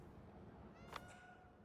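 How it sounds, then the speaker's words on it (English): A single short cat meow in the video game Indiana Jones and the Great Circle, faint and brief against a quiet background hum. "Is that another cat that I hear?"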